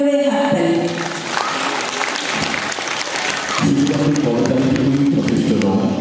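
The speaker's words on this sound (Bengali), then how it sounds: "তাদের জন্য একটা জোরে হাততালি।" Loud audience applause at an annual dance recital, a dense roar of clapping from a large crowd that swells and holds, with music or a voice rising beneath it partway through.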